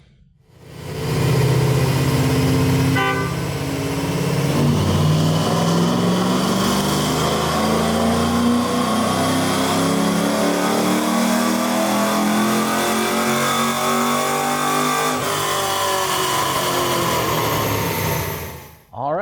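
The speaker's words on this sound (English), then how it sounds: "we just got done turning the rollers on this car" A 2007 Ford Mustang GT engine on a dyno revs hard and climbs steadily through the gears in long, loud pulls, then drops back toward idle at the end.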